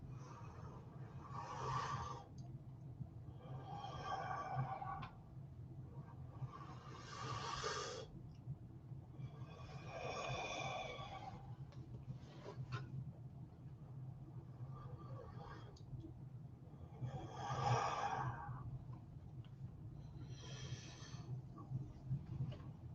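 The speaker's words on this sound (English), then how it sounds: "I always want to start by breathing, taking a few deep breaths." Slow deep breathing during a guided breathing exercise, about seven long airy breaths spaced evenly over a low steady hum, soft and close.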